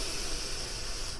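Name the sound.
deep belly breath in during guided meditation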